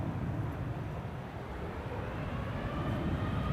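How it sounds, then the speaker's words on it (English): An American Airlines Dreamliner widebody takes off from Schiphol's Polderbaan runway, its engines producing a steady, distant broadband roar with no breaks or change in level. "And an American Dreamliner now taking off here."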